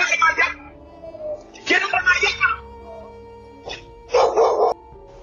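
Wandering dogs in a home driveway bark in several sharp, loud bursts, some clustered and one brief isolated yip, with quiet ambient pauses between.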